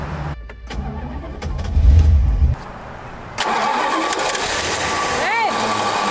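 An abandoned Plymouth Fury tries to start: a few loud, uneven bursts of engine cranking, then a steady mechanical whirr, with people talking over parts of it.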